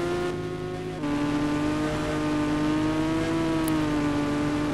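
A motorbike in GTA 5 on mobile accelerates hard. The steady engine drone steps up in pitch and then holds a sustained high rev, loud and close, with no talk.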